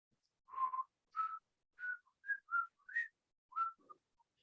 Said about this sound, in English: My whistle is not working well today